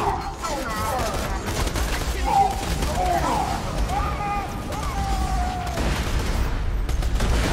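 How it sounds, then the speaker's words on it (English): Borderlands 2 combat with bursts of rapid gunfire and big explosions, a dense continuous clatter under someone talking over it. "I always keep forgetting how big those explosions are."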